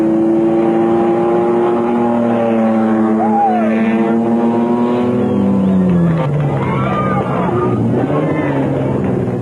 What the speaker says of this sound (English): They were followed by the Toyota Land Cruiser of Schumi and Carl van Pieren, seen here about to overtake the Mitsubishi of Henry and Morris Sermatten